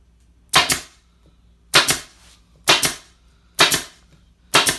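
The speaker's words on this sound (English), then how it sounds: "So I'm going to put the staples on." A staple gun fires five sharp, loud snaps at roughly one-second intervals as staples are driven through canvas into a wooden stretcher frame, each crack close and decaying quickly, with near silence between.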